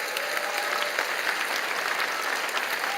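A church congregation applauds at a teacher appointment and long-service award ceremony, a steady wash of many hands clapping at moderate level, heard from a little distance.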